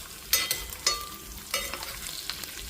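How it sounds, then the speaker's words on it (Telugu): Potato and fenugreek leaf stir-fry cooking slowly in a pan over a low flame, a soft steady sizzle broken by a few sharp scrapes and clinks of stirring, close and fairly quiet with no talk. "సిమ్లో ఇవి చూడండి వేగుతున్నాయి."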